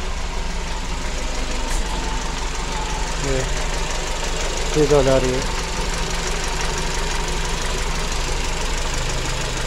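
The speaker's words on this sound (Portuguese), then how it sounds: "a lenta cai, a lenta volta, a lenta não tá dando trabalho nenhum." A VW Gol Quadrado with lost ignition timing idles with a steady, rough engine drone and an audible knock, close and continuous, while someone talks over it briefly.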